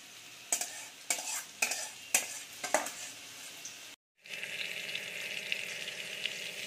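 Potatoes frying for chicken curry are stirred in a pan, giving five rhythmic scrapes over a sizzle. After a brief pause, a steadier, fuller frying hiss continues.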